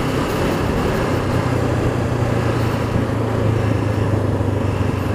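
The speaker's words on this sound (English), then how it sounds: "Yeah, I like that little burble it's got." A 2019 Honda CB500F motorcycle on a test ride: a steady, loud engine burble with a low rumble that stays constant throughout, mixed with wind noise.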